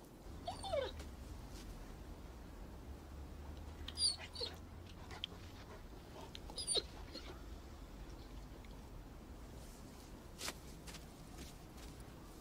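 A dog whimpers and whines faintly in a film scene, with a few high, thin yelps over a steady low background hum.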